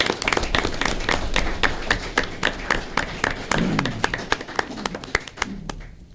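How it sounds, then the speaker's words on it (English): Audience applause for the fire department at a commission meeting, loud and close, with dense rapid hand claps filling the room and a brief swell of crowd murmur partway through before the clapping thins out at the end. "let's have another round of applause for our fire department"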